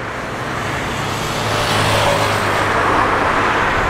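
Steady highway traffic passing beneath a tall bridge, a continuous loud roar of cars, trucks and buses that swells slightly, heard from a moving bus without talk.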